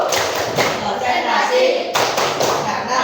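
Children performing a concentration clapping routine, rhythmic taps and thuds of hands in a classroom beneath continuous chanting voices, with a short break partway through before the clapping resumes.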